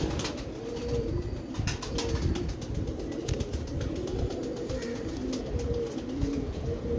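Pigeon cooing in soft low repeated calls under steady outdoor background noise, with occasional rustles or wing movement nearby.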